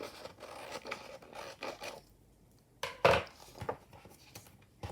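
Scissors cutting through paper or card while trimming a junk journal cover on a desk, a few close scraping snips and rustles with a sharper cut near the middle.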